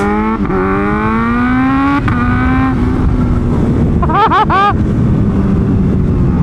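Kawasaki ZH2 supercharged motorcycle engine rising in pitch as it accelerates, then a quick series of sharp revs and gear changes, loud and close over steady wind roar.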